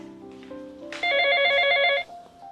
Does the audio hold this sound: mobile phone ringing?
yes